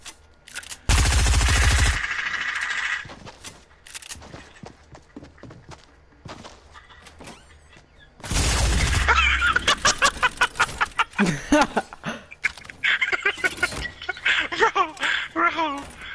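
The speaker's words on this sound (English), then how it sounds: "Shoot it. Shoot that thing." Video game gunfire erupts in two loud bursts, a long blast near the start and a heavier volley later with rapid follow-up shots, while players talk over the action.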